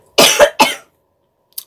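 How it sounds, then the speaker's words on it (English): Someone gives a close, loud cough in a quick burst of about three hacks, followed by a short silence and a tiny faint sound at the end. "it's probably because I coughed"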